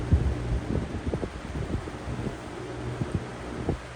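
Lasko box fan with a wind ring and open slats, running on medium speed, gives a steady low airy hum with faint throbbing and small thumps, heard alone.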